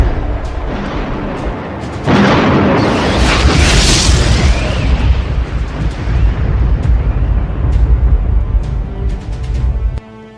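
Explosions from Iranian missile strikes: a sharp blast opens into a long, loud rumbling roar that rolls on for several seconds, scattered cracks and pops on top, before a final bang cuts it off.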